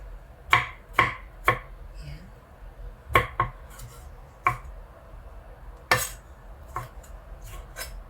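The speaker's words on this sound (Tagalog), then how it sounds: "Cubes lang po natin yung kamatis, guys." A knife chops whole tomatoes into cubes on a cutting board while a mung bean dish is being made, giving about a dozen crisp, close taps in loose bursts with short pauses between them.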